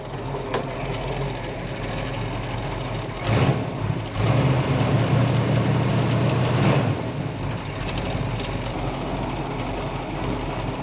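A 1970 Dodge Challenger R/T convertible engine idling while running rich, a steady low rumble with a couple of brief revs swelling mid-clip, close and without talk.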